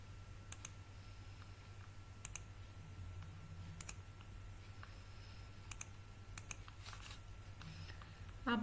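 Mouse clicks while working in PowerPoint, sharp isolated clicks spaced every second or two, some in quick pairs, over a quiet low hum.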